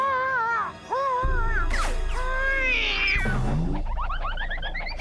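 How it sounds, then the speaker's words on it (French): A cartoon cat yowls and meows in drawn-out, wavering cries, loud and close, set against a rumbling low cartoon soundtrack with bouncy effects. "Maudit chat, à nous deux maintenant, Martin."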